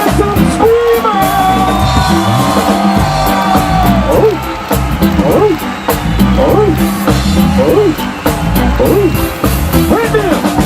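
A dancehall concert crowd in South Carolina cheers and whoops loudly and without a break over pounding live music, with shouted calls from the stage mixed in throughout.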